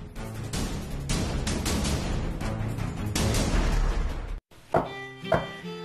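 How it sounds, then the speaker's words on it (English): Several hard knocks on solid wood furniture, a rapid run of hollow thuds followed by a brief pause and two more distinct raps. "That's the sound of American-made solid wood."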